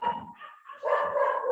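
A dog barking somewhere near the house, carrying clearly into the room as a quick burst of loud, sustained barks with no one speaking over it.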